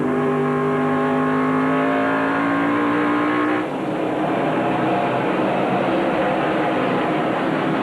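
NASCAR Craftsman Truck Series race trucks roar past at I-70 Speedway in a 1997 race. Loud, sustained engine whine rises and then gives way to a broad roar as the pack sweeps by.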